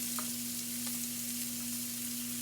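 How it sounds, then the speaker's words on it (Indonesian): Steady sizzling of shallots sautéing in hot cooking oil in a wok, a constant crackling hiss with faint stirring clinks, no voices. "kita masukkan adalah minyak goreng ke dalam wajan yang panas, dan kemudian kita gongso"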